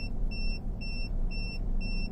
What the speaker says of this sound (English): that amazing beep noise that's going off in the background